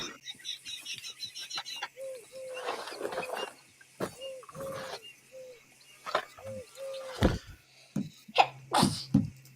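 A sharp sneeze bursts out over Red Dead Redemption 2 game sounds of chirping birds and cooing doves, with scattered clicks and faint background noise throughout.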